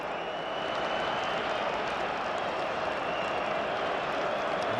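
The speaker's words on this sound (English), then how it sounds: "That gets the Stoke crowd going." Stoke City supporters at the 2011 FA Cup Final against Manchester City, a vast stadium crowd roaring and cheering as a steady, dense wash of noise that holds without a break.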